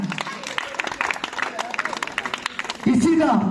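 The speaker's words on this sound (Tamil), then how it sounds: "கைதட்டுங்க." Audience clapping at a Pongal festival prize-giving, a busy spread of many hands under crowd noise, with a voice speaking over the last stretch.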